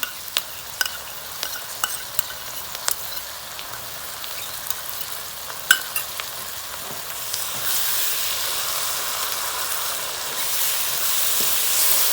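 Yogurt being stirred into sizzling masala in a pan for dahi bhindi, with scattered spoon scrapes and clicks over a steady frying hiss that grows louder and fuller in the second half; no voices.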